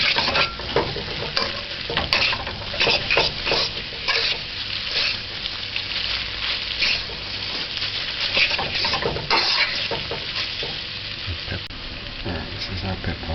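Noodles and chicken stir-fry in a pan with a steady, close sizzle and constant scraping and stirring throughout, loud and continuous with no talking.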